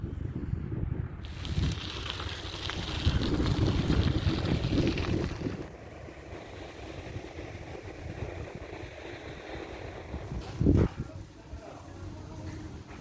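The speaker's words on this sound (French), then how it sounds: "Alors, il y a un peu de vent là." Gusty wind outdoors by small houses buffets the microphone, loud in the first half then easing to a softer rush, with a brief thump near the end.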